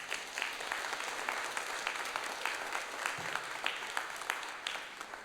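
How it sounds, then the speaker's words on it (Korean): Church congregation standing and applauding for a young international student being introduced, a steady wash of many hands clapping at moderate distance with no talk over it. "함께 일어나시면 우리 박수"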